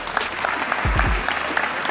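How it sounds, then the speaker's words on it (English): Audience applause at a live spoken-word session, a steady burst of clapping from a crowd that runs through the whole moment at close range, with no voices over it. "Give yourself a round of applause, y'all."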